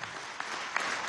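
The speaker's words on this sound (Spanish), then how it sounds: "un aplauso al ministro por toda la labor que está cumpliendo" Brief burst of crowd applause for a government minister at the tenth-anniversary ceremony of Venezuela's Bolivarian National Police, a steady wash of clapping throughout.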